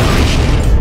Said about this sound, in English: That explosion came from the front of the building.